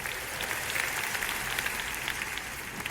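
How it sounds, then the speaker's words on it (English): A theater audience at a mind-reading talk applauds three volunteer helpers, a steady, dense wash of clapping throughout with no talking. "Give all 3 helpers a round of applause."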